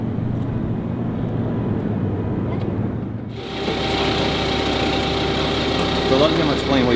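A blue Navy airplane's engine drones at steady pitch, quieter at first, then a louder fuller engine roar cuts in partway and holds; voices talk over it.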